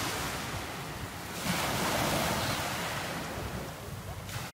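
Steady surf and breaking sea waves at Langeron beach in Odesa, a continuous loud wash swelling slightly midway, mixed with wind buffeting the microphone and no speech.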